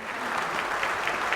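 Brief audience clapping at a Ramazan quiz competition after a correct answer, a dense even patter of many hands, short and moderately loud.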